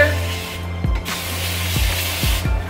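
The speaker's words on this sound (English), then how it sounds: "just spraying my hair down with a little bit of water." Water from a spray bottle mists onto thick type 4 coily natural hair in a few quick, close hissing bursts separated by short pauses.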